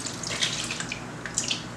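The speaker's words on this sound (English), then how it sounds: "And you're going to pour your water over your skin." Warm, not boiling, water is poured over ginger skins for homemade ginger beer, a continuous close splashing trickle like a tap filling a vessel, steady throughout with small bursts.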